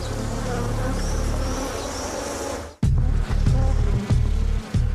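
Swarm of Africanized honey bees buzzing loudly and continuously, a dense close drone that briefly drops out then resumes with a few bumps as bees pass near.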